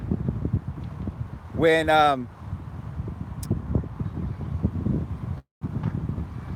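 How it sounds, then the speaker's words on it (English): Strong outdoor wind buffets the microphone in a steady low roar with gusts, continuing under and around a short stretch of a man's speech. "this wind is just whipping today"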